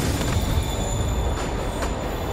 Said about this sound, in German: Der Zug bewegt sich.